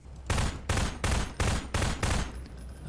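Six evenly spaced, loud gunshot bursts fired in a Source engine mod video game, each a sharp rattling blast about a third of a second apart, followed by a brief fading tail.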